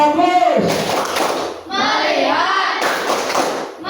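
A classroom of students chants in unison and breaks into short bursts of rhythmic group clapping between the spoken phrases. The claps come close and fairly loud and are mixed with the voices.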